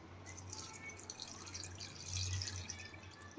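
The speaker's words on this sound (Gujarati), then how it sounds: "હવે આપણે એમાં પાણી નાખશું" Water trickles and splashes into a metal pot of broken Maggi noodles, a soft steady pour with faint dripping and light kitchen clatter.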